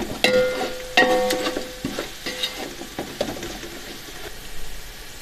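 Spices and biryani masala (turmeric powder, crushed red chilli and salt) stirred and frying in a pan for potato biryani, with steady sizzling under scraping strokes and a few sharp clinks of the spoon against the pan, close by and no talking.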